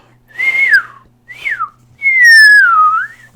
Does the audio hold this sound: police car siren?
no